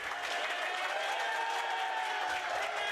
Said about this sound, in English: Home crowd getting loud for Norm